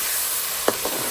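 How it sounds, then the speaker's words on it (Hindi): Onions frying in a pan for salan, a steady bright hiss of hot oil with a couple of quick scraping stirs near the end, close and moderately loud. "प्याज फ्राई हो रहे"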